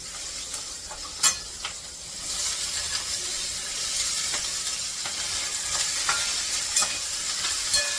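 Vegetables, cut into large pieces, sizzle steadily in hot oil with turmeric, a continuous frying hiss punctuated by a few brief clicks and stirring knocks close by.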